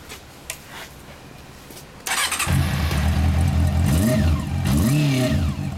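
A 2004 Honda CB400 Super Four motorcycle sits quiet, then its engine fires up abruptly and is revved hard, rising and falling a few times, loud and close, with no talking.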